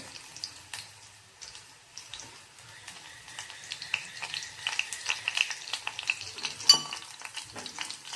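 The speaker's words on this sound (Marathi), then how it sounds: "थोडं जिरं मोहरी पण घालून टाकते फोडणी." Cumin and mustard seeds crackle and sizzle in hot oil with quick, irregular pops that grow busier and louder toward the end, no voices over them.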